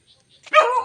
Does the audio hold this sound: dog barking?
yes